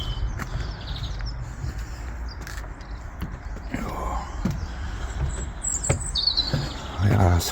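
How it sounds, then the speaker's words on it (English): Birds chirping and singing outdoors on a sunny morning near a boatyard and bridge, scattered high tweets over steady wind and ambient noise, with some footstep-like thuds in the background. "All the birds are whistling."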